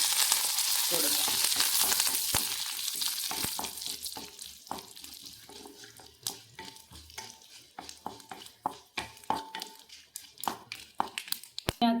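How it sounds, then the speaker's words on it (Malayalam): Mustard seeds, dried red chillies and coriander fry in hot oil for a tomato chutney, an initial bright hiss fading into irregular pops, crackles and spoon clinks that grow sparser and sharper. "എണ്ണ ഒന്ന് ചൂടാവുമ്പോഴത്തേക്ക് നമ്മൾ കടുക് ഇട്ട് കൊടുക്കാം ഇനി അതിനകത്ത് വറ്റൻ മുളകും മല്ലിയിടും"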